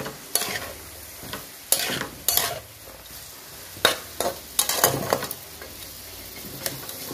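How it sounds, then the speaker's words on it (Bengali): Vegetables fry and get stirred in a hot pan over medium-high heat for a mixed pizza topping. Sizzling runs throughout, with bursts of scraping and stirring at irregular intervals, close and fairly loud, with no talking. "এবার এটাকে একটু ভাজতে দেবো।"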